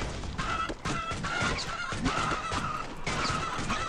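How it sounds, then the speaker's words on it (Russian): Chickens clucking and squawking in the mobile game Swamp Attack 2, a busy stretch of repeated cartoonish fowl calls mixed with game effects and impacts, steady and fairly loud with no talking. "Они сейчас всех куриц мне поуничтожают."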